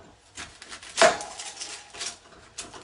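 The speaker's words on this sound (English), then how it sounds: "I have one large onion, which is a white large onion. And we are going to cut that up" A knife chopping a large white onion on a cutting board, a few sparse, uneven taps with one sharper, louder chop near the middle, close and alone without talk.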